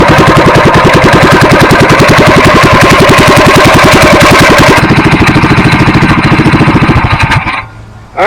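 A Harbor Freight Predator small engine runs steadily with a loud, rapid, even putter, then changes tone partway through and cuts off abruptly near the end.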